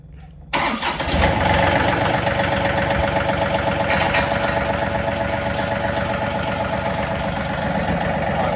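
A tractor engine cranks and catches, then settles into a steady, loud diesel idle close by with a continuous rumbling clatter.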